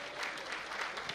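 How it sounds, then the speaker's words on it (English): Audience clapping at a comedy show, a brief burst of dense, fairly distant applause. "Clap for the Nigerian movies once again."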